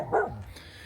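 A yard dog lets out a single short, sharp bark close by, followed by brief quiet.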